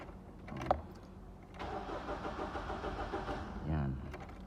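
A Nissan Navara pickup with no spark from its ignition coil cranks steadily for a couple of seconds without catching, the starter whirring close by, with a person talking quietly around it.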